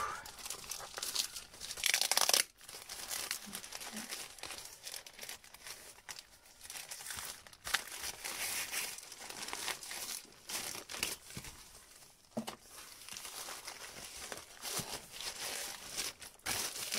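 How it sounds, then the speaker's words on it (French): Parcel packaging being unwrapped: plastic and paper crinkle and crumple close by in bursts, with a sharp tearing rip early on and quieter rustling between. "j'ai reçu un colis ce matin et du coup je vais le déballer avec vous"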